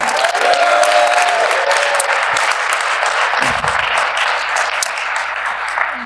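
An audience at a real estate event applauds operations staff with a steady round of clapping, moderately loud and continuous, with some crowd murmur and a few stray voices mixed in.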